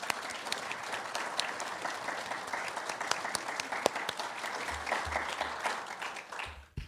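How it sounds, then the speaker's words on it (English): A church congregation applauds steadily for two honored members, a dense, sustained clapping that fills the space for several seconds before tapering off near the end. "let's give a round of applause to Sandy and Margaret"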